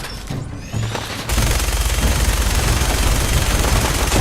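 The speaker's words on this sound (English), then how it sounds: "Minigun time." Sustained rapid-fire minigun roar from the video game Fallout 4, loud and dense, kicking in after a short spin-up and continuing unbroken with heavy low-end impacts.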